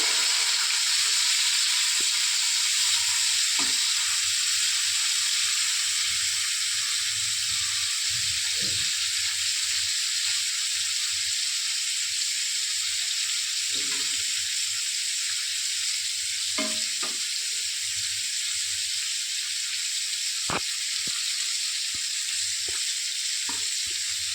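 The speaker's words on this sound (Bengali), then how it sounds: "তেলটা গরম হয়ে গেছে এবার মাছগুলোকে ভালো করে ভেজে দিচ্ছি" Prawns fry in hot oil with a loud, continuous sizzle, and occasional clinks and stirring scrapes break through from time to time.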